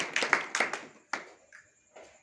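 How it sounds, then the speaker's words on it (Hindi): A few people at a large home meeting clap in short, scattered bursts that quickly trail off, with sparse hand claps near the close. "इन सर के लिए सभी के लिए भी एक बार जोरदार ताली"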